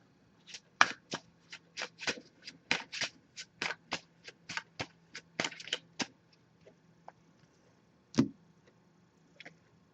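A deck of oracle cards is shuffled by hand in a quiet room, giving a close, crisp string of riffling snaps and taps that slows and thins out toward the end.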